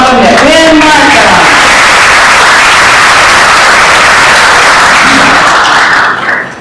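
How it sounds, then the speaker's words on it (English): A Rotary meeting audience breaks into loud, sustained applause welcoming speaker Ben Markham, dense clapping from a large room that carries over the speaker's closing words and tapers off near the end. "Big round of applause and welcome to Ben Markham."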